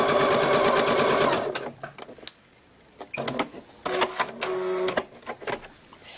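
Sewing machine stitching reusable fruit and vegetable bags, a fast rhythmic mechanical whir in bursts, the first long run then several shorter starts and stops with quiet pauses between, close and clear.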